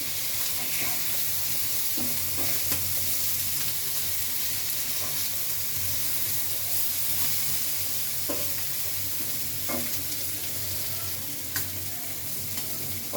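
Flipped sea fish fries steadily in a hot pan, giving a continuous loud sizzle and crackle with a few scattered clicks and pops, and no voices.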